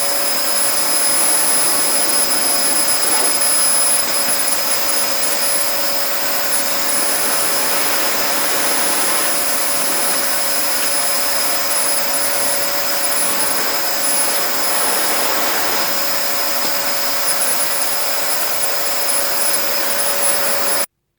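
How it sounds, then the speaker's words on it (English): An open vacuum cleaner motor whines loudly and steadily without a break, a constant high-pitched roar with no voices. "an open vacuum cleaner"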